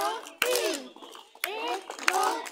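Children clapping their hands on instruction, three sharp claps spaced about a second apart, each followed by someone speaking.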